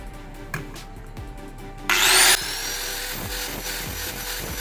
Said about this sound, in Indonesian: kita haluskan memakai gerinda fleksibel atau gerinda potong ya